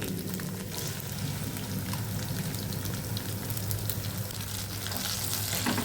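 Ground masala paste sautés in oil for an egg gravy, giving a continuous dense sizzle like rain on a surface, steady and fairly loud without talk.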